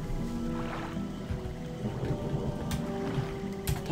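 Soft patter of rain in the game Gothic, with low rumbling and faint tonal hums underneath, a few sharp clicks near the end, no speech.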